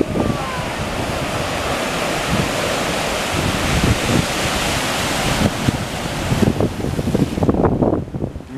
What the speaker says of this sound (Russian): О, пришли большие волны.